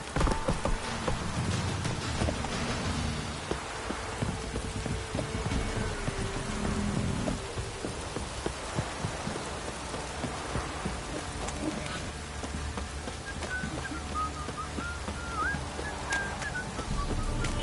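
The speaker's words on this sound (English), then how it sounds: "Don't stop raining, my arse will rot off." Rain falls steadily in the video game The Witcher 3, a continuous soft patter with faint hoof clops and occasional distant bird calls mixed in.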